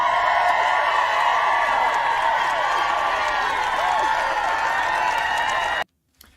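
A large political crowd applauds and cheers loudly, with dense continuous clapping and whoops that cut off abruptly near the end.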